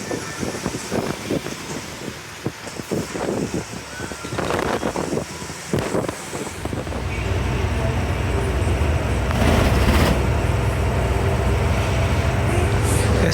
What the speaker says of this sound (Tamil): மக்களே, வண்டி 80 ஸ்பீட் லாக்கெலாம் இல்லைங்க, பறக்குதுங்க 80க்கு மேலே